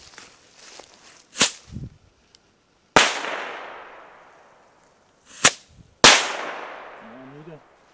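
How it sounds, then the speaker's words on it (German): Moon Traveler firecrackers with bang detonate outdoors as several sharp reports, two of them followed by long hissing crackle tails, with a faint voice murmuring at the very end. "Moon Traveler mit Knall."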